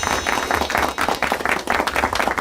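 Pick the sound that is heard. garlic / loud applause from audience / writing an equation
loud applause from audience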